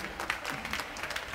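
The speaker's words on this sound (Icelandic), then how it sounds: "Það má alveg klappa." An audience claps at an autumn gymnastics meet, producing a dense, fairly quiet patter of many hands that carries on evenly without any voices.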